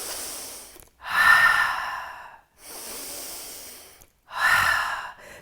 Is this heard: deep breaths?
yes